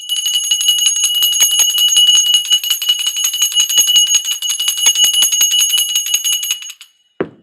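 Bells rung for sound therapy chime steadily for about seven seconds, a bright sustained ringing with repeated strikes, close and loud, then stop, followed by a brief low knock.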